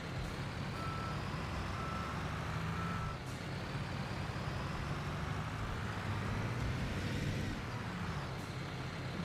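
Truck in the Construction Simulator road-building game on a housing estate job, reversing with steady repeated beeps over a continuous engine and road rumble, plus brief air-brake hiss.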